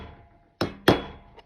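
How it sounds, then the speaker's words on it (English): Little ball peen hammer seating a rivet burr on an anvil, two sharp metallic taps in quick succession followed by a faint third, close and clear. "I'm going to grab my little ball peen hammer"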